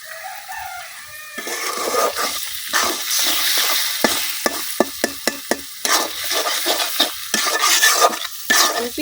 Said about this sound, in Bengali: পেঁয়াজ আর মরিচের সাথে ডিমটা আমি খুব ভালোভাবে ভাজা নিলাম